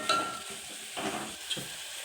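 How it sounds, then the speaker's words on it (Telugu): Green chillies and onions fry in a pan for a Telugu chikkudukaya (broad bean) curry, giving a soft steady sizzle with a few stirring scrapes, close and fairly quiet, with no talking. "పచ్చిమిర్చి ఉల్లిగడ్డ ఫ్రై అయిన తర్వాత పసుపు వేసుకోవాలి"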